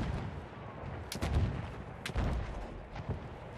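Gunfire in the video game Battlefield 1, with distant, muffled booming shots sounding a few times across a rumbling battlefield background.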